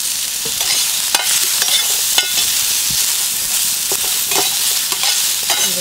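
Ridge gourd pieces roasting in oil for a chutney, a steady loud sizzle with intermittent scraping stirs and clicks of a spoon against the pan throughout.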